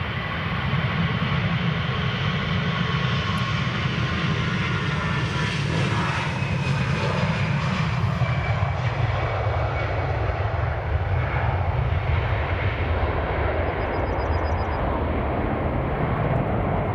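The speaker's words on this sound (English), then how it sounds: "Next up is this EasyJet A320 Catania to Sicily." EasyJet Airbus A320 jet engines at Edinburgh Airport, a loud sustained roar with a slowly shifting whine as the aircraft passes, continuous throughout with no talking.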